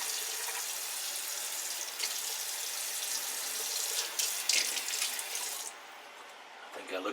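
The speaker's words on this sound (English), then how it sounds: "Rinse out my gear here." Tap water running into a bathroom sink while shaving gear is rinsed after a shave, a steady hiss of flowing water with brief splashy surges before it quiets.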